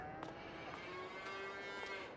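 Cattle lowing in a Farming Simulator farm game during winter, a sustained harmonic moo running steadily through the short stretch with faint repeated clicks behind, no talk.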